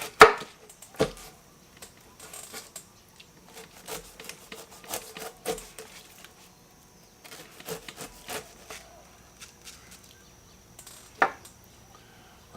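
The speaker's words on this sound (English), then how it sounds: "get a knife, cut it up" A knife cutting up a ripe white pineapple, a run of irregular crisp chops and slicing scrapes against a board, close and clear over quiet background with gaps between strokes.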